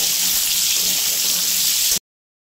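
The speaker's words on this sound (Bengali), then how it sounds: "ঝিঙ্গাটাকে আমি ভেজে নিব একটু।" Ridge gourd frying in a pan for a paneer dish: a steady, bright sizzle hisses without pause for about two seconds, then cuts off abruptly.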